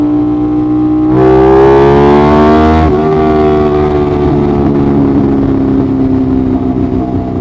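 An Aprilia RS660 motorcycle accelerates hard in third gear on a highway, its loud, close engine note climbing steadily in pitch before easing off into a sustained drone with wind roar.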